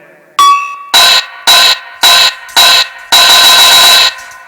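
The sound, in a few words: jingling anklet bells (nupur)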